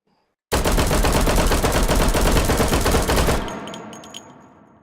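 Dual-wielded pistols fire in the VR shooter H3VR: a loud, rapid, unbroken string of shots lasting about three seconds, then a fading echo with a few small metallic clinks.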